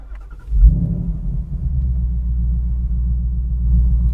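A Ford car engine starts after a delayed crank at a dealership, then settles into a loud, steady low idle rumble close by with a slight rise near the end.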